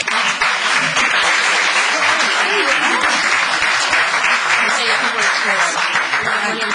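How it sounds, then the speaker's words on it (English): Loud, sustained applause from the audience at a town council meeting, a dense continuous clatter of many hands filling the room throughout. "Applause, please."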